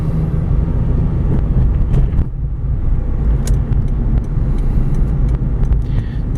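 A 2006 Acura RSX driving over road bumps, steady engine and road rumble with a few brief thumps as the car crosses them, close and continuous.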